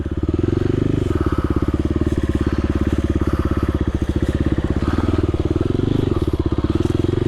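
Kawasaki KLX 300R dirt bike ridden in first gear over slippery rocks in woods, its single-cylinder engine pulsing loud and close with rapid, steady beats and small surges.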